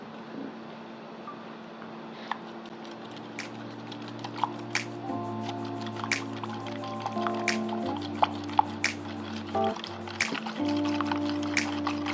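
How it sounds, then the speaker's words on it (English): Water, orange juice, brown sugar, cinnamon and vanilla being stirred together for baking sweet potatoes, giving soft liquid sloshing and small dripping clinks close by, with a steady musical background and no talk. "So water, orange juice, brown sugar, cinnamon, and vanilla are in here, and I'm going to mix this up."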